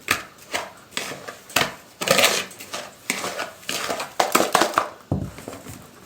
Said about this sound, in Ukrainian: До яєць додаю цукор, ванільний цукор і все гарненько перемішую.